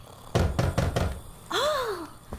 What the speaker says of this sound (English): Oh, there's a knock at the door.